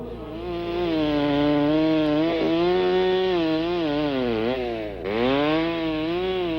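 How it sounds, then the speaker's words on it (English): A chainsaw whines loudly as it cuts wood for a woodcarver's wooden discs, pitch sagging under load and rising again, with a brief dip near the end. "A chainsaw speeds the work of a woodcarver who turns out hundreds of wooden discs."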